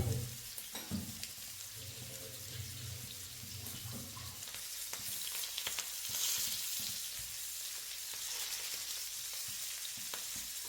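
Beans fry in a pan with a steady, moderately quiet sizzle that runs throughout, under scattered small clinks and stirring scrapes. No one speaks.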